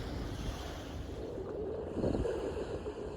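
Steady wash of surf with wind rumbling across the microphone, a slightly louder wave surge arriving midway, no voices, at the shore by a lighthouse in Bug Light Park, South Portland, Maine.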